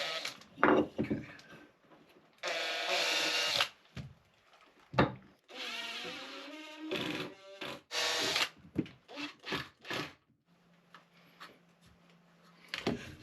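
A power drill boring a pilot hole into boat fiberglass, heard in several short whirring bursts with pauses and some handling clatter in between, close and clear.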